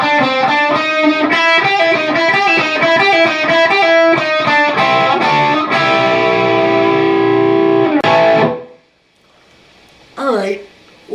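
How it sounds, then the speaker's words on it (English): A heavily distorted electric guitar rips through the fast outro lick of a song, a dense run of notes ending in a ringing chord that cuts off, followed by near silence and a brief noise. "So the outro lick you'll hear, which again is finishing off the song, will sound like this."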